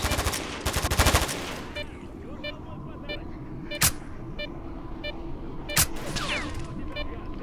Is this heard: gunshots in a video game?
yes